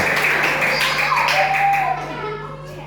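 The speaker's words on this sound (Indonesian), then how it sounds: "bisa tepuk tangan?" Children at an Isra Mi'raj religious talk clap their hands together, a brief burst of close, busy clapping mixed with young voices and a steady hum underneath, fading toward the end.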